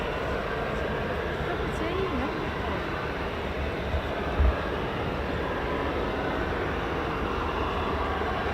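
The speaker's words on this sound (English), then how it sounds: "Okay, we've got 2 F-16s." Two F-16 fighter jets arrive at RAF Fairford during the Royal International Air Tattoo, a continuous distant rumbling roar that stays fairly even throughout.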